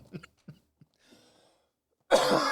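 A person is caught in a coughing fit: a few short, dry coughs spaced apart, then a brief pause before a sudden louder, rough burst.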